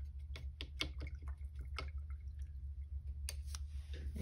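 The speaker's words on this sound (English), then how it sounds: "I'm gonna rinse my brush" A paintbrush is rinsed in a small container of water, giving soft drips, splashes and light clinks in quick irregular succession over a low steady hum.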